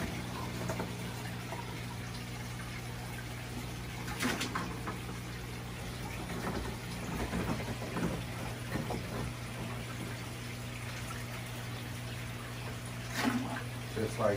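Water drains from a 125-gallon aquarium, steady running and trickling with a constant low hum underneath and occasional splashes, continuous throughout at moderate volume.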